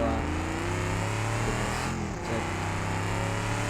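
A muscle car engine drones at high speed in a BeamNG.drive race, holding a loud, steady roar with layered harmonics and a brief dip as the gear changes.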